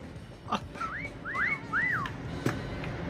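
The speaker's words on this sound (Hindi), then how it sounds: "आवाज करो, सीटी बजाओ." A person whistles a few short rising-and-falling slide notes at moderate distance, over low background noise and a couple of faint clicks.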